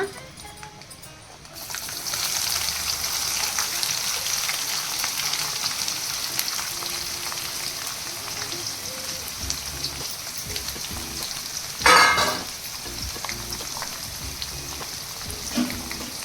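Onions crackle and sizzle steadily in hot oil in a pan while cooking avalakki uppitu, a close, continuous fry with a brief louder burst of stirring or clatter near the end.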